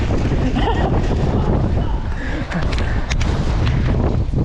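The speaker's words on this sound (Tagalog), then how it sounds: "Ang ganda ng malakas na hangin!" Strong wind blasts across a fishing boat at sea, a loud continuous roar buffeting the microphone, with water sloshing against the hull beneath it.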